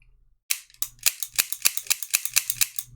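Gas-powered airsoft P9 pistol firing a rapid string of about a dozen sharp, loud snapping shots in quick succession, close up, with no talking.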